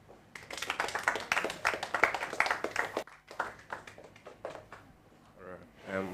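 Audience clapping for a start-up founder at an accelerator event, a brisk round of hand claps for about three seconds, then scattered claps under speech.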